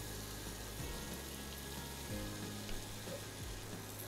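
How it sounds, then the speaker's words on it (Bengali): Chopped skin-on potatoes frying in a pan, a quiet, steady sizzle with occasional stirring scrapes, heard alone. "আলুটাকে কষাতে কষাতে সিদ্ধ করে নিতে হবে।"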